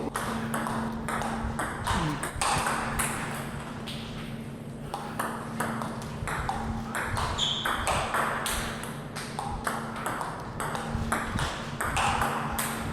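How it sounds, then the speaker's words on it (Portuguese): Table tennis ball struck back and forth in a fast drive rally with Omega 7 and MXP rubbers, crisp repeated pings at a steady quick rhythm, loud and close, with faint background voices. "e dar drive em cima do drive do Fukasi com a Omega 7"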